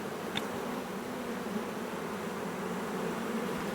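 Honey bees from a newly installed package buzz in a dense, continuous drone, steady and close throughout with no talking.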